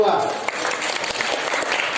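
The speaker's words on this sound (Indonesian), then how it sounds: "Tepuk tangan untuk anak-anak SMK Muhammadiyah" Applause for students of SMK Muhammadiyah 2 Samarinda at a school national-awareness talk, a steady broadband patter of many hands clapping throughout, with speech mixed in.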